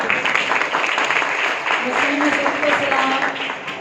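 Congregation applauding during a Friday church service, a steady close wash of clapping with voices mixed in underneath.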